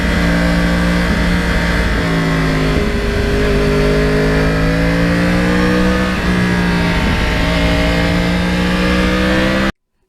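Yamaha R1 crossplane motorcycle engine running loud and close, its pitch climbing and dipping through several revs over about ten seconds before cutting off abruptly.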